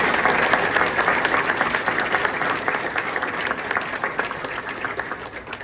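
An audience breaks into applause for Steve at a Golisano Institute talk, dense clapping from many people close by, steady throughout and tapering a little in the last seconds.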